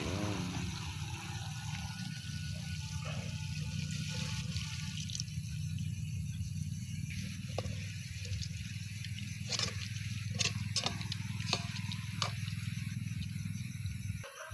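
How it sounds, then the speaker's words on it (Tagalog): A little water is poured into a pot of kakawate flowers cooking on the stove, over a steady low simmering hiss that runs the whole time, with a few faint clinks and drips near the end. "Pupusan ng kunting tubig para may sabaw siya, para malasahan yung sarap."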